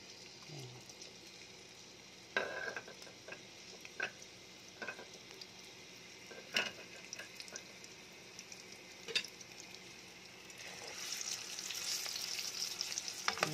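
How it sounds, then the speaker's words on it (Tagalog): Ground meat still hard from the freezer frying in a pan: a faint, quiet sizzle broken by scattered clicks and taps of a spatula, with the hiss swelling louder near the end. "Sa kawali. Next natin ay unahin natin ang giniling."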